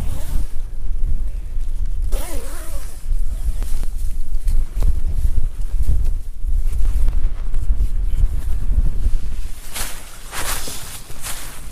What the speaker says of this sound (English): it's a windy day today, so yeah, it wasn't easy putting a tent up in this wind